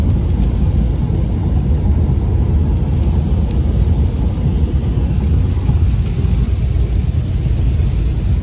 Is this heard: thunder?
yes